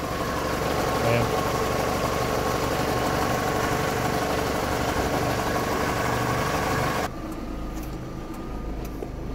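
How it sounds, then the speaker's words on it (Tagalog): A Toyota car engine idles while warming up to operating temperature, a steady mid-low hum with light vibration, loud and close, then the level drops sharply near the end as the sound changes. "So hintayin po natin mga 15 minutes para mainit yung kanyang makina."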